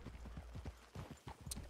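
Horse hooves clip-clop in a steady walking rhythm in Red Dead Redemption 2, soft and fairly close over low ambient rumble, with a brief higher sound near the end.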